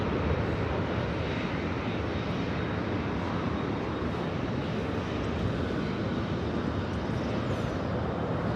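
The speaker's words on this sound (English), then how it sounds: "This arrival is Delta Airlines 2272 coming in from San Francisco on the A320." Delta Airlines Airbus A320 jet arriving at Los Angeles International Airport, heard as a steady, broad engine roar that holds at even loudness throughout, at moderate distance.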